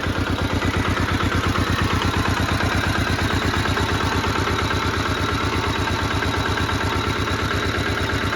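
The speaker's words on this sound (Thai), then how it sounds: "ครื่องสูบเดียวก็จะสั่นประมาณนี้นะครับ" A single-cylinder engine on a KRT-140 walking tractor idles close by, a loud, steady, rapid thumping chug with a faint rattling clatter that carries on evenly throughout, with no talking.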